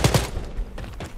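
Assault rifle fire in the video game Wolfenstein Youngblood: two sharp shots up front, then a rougher burst trailing off, loud and close over about a second.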